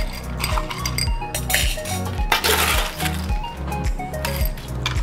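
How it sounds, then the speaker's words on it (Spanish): A spoon clinks repeatedly against a glass while a non-alcoholic drink with homemade cranberry juice is stirred. The quick, bright metallic taps keep up a steady rhythm over a continuous low background. "removemos para que coja el sabor"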